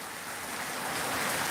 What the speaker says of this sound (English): It might rain like this all night.